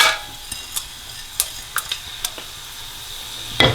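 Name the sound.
whole garam masala spices sizzling in hot oil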